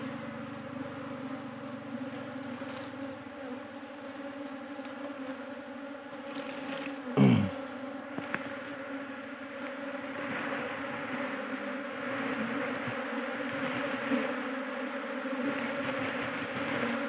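A bee colony in a small wooden hive box hums with a steady, close drone of buzzing wings, constant throughout with one brief louder rustle or knock near the middle.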